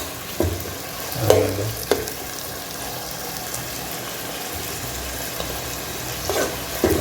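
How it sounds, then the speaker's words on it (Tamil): Onions sautéing in a pan for chicken liver gravy, a steady broadband sizzle with a few stirring scrapes and clinks, close and moderately loud throughout, with no talk. "வெங்காயம் நல்லா வதங்கிடுச்சு."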